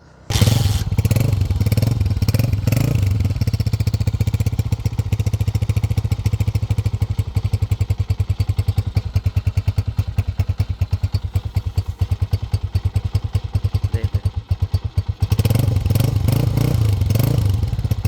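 Restored 2014 Honda 125 motorcycle engine running steadily up close, a loud continuous thumping idle with brief revs at the start and end, no voices.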